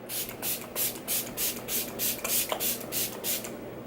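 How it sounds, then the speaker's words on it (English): About nine quick, evenly spaced spritzes of Fix Plus face setting spray from a pump bottle, each a soft close hiss in a steady rhythm. "I'm just going to spray my face with this Fix Plus"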